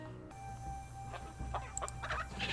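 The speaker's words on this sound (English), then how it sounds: "Chicken." A chicken in the Nancy Drew: Secret of Shadow Ranch video game gives a few short clucks over a quiet, steady game background hum, heard alone with no talk.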